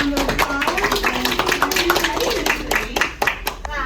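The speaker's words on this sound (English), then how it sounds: "So let's give her a round of applause." Scattered clapping from a small classroom audience welcoming a visiting children's book author, individual hand claps up close with voices and chatter mixed in.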